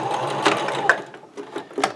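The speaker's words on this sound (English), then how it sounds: "I'm just going to sew that folded edge." A sewing machine stitches along the folded edge of a skirt waistband, its close, quick mechanical whirring broken into short pulses.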